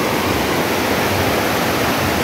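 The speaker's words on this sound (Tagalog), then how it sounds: "Kusog kang current ba niya, kusog ragasa kayong tubig." Strong river current rushing at a flood-control site in Davao, Mindanao, a loud, steady, close roar of churning water with no voices.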